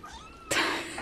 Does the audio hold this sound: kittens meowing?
yes